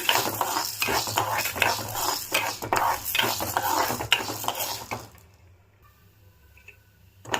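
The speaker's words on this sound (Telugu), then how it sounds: "ఇప్పుడు ఇదే బాండీలోకి మినపగుండ్లు వేపుకుందాము." Urad dal roasts in a pan of leftover oil for idli podi, stirred steadily with a dense, close scraping and sizzling hiss for about five seconds before it falls quiet.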